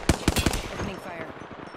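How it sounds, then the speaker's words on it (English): Automatic gunfire in the video game Apex Legends, three quick loud shots in a short burst followed by a fading tail, with faint game sounds under it. "Opening fire."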